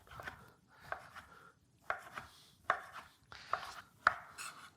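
Knife slicing through a smoked sausage on a cutting board for paella, several separate, fairly soft cuts with thuds against the board, spaced about a second apart, close and quiet.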